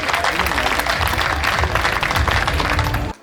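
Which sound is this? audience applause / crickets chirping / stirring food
audience applause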